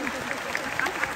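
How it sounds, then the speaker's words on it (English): A crowd at a live horse training event gives a short burst of light clapping, quick and moderately loud, with scattered individual claps and voices mixed in. "little round of applause"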